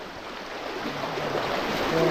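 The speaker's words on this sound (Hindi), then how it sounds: "बहुत सारा वाटरफॉल ही वाटरफॉल है" Hurnat waterfall with a large volume of water pouring down, a steady broadband rushing roar that swells slightly louder toward the end, with no voices.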